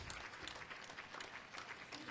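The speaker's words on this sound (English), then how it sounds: "Great applause from the crowd as well, watching a great game of tennis" Spectators applauding after a blind and low-vision tennis match, a faint, distant, steady patter of many hands with a commentator talking over it.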